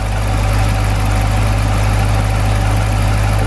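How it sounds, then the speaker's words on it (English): A Dodge Challenger R/T HEMI idles on a hot day with the A/C compressor running, a steady, close, low engine hum with constant vibration and no voices. "Kind of see that the compressor's on."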